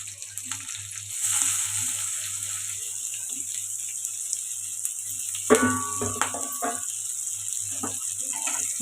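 Onions and green chillies fry in a little oil in a pan, a steady close sizzle with stirring scrapes and clinks partway through. A voice speaks faintly at times.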